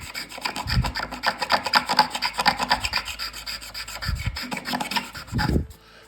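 A homemade scraper ground from a dull file rasps across wood in quick, rhythmic back-and-forth strokes, close and fairly loud, with a few low thumps between passes and no talk.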